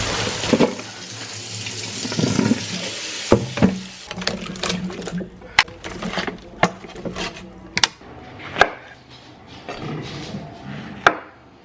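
Produce rinsed under a running kitchen tap: a steady rush of water at first, then a series of sharp clacks and knocks as the items are handled, with faint background noise.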